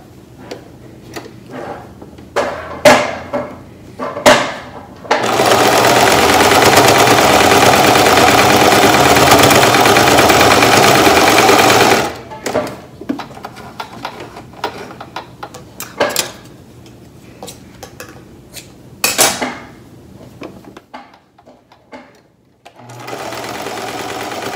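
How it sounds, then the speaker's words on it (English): An old sewing machine stitches a quarter-inch side seam on a fabric face mask: scattered clicks and taps, then a steady loud whirring run of about seven seconds, more short bursts, and a final run starting at the end. "So I got my sewing machine back out, and I'm just gonna sew each side."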